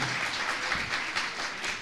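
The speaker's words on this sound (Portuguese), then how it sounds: "aplauda o Senhor Jesus" Church congregation applauding during a sermon, a dense, steady wash of many hands clapping together, moderately loud and continuous without pause.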